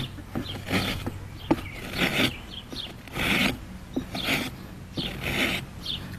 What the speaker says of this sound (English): Now I'm making sure that my rasp doesn't hit over here on the other side.